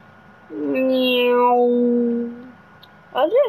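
A single drawn-out meow, voiced by a person imitating a cat, rises and then holds steady for about two seconds, loud and close, followed by a short burst of other sound.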